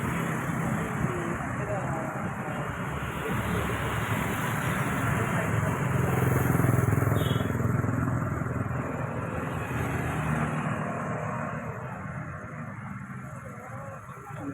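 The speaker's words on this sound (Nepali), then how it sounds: "मोटरसाइकल" A motorcycle rides along a road in Pokhara with a continuous engine drone and road rumble that swells toward the middle, mixed with wind and other traffic.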